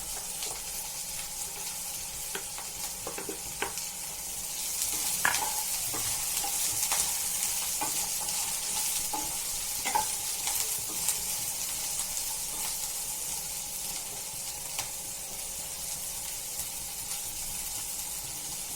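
Green chillies and coriander stalks sizzle in hot oil in a frying pan, a continuous close hiss with occasional spoon clicks and stirring scrapes, and no voices.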